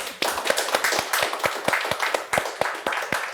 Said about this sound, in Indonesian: Keren, tepuk tangan dong.